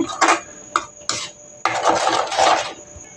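Spoon scraping and stirring curd into onion tomato gojju in a pot, in several bursts of rasping strokes with short pauses, close and fairly loud.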